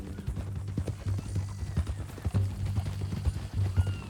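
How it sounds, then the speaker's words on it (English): Horse hooves clip-clop in Red Dead Redemption 2, a steady run of close, punchy thuds that keeps an even walking rhythm for a few seconds with no voices over it. "That a new horse?"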